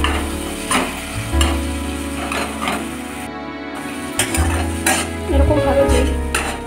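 Tomato and spice masala with a pinch of salt, cooked down in a pan for a Bengali cauliflower and tangra fish curry, with a spatula stirring and scraping in repeated strokes over a steady low sizzle, close and fairly loud.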